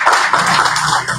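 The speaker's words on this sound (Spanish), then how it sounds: "¿Cuántos le pueden dar un aplauso al Señor por esta comunión?" A church congregation claps during a Spanish-language sermon, a brief dense patter of many hands that holds steady for about a second without any speech.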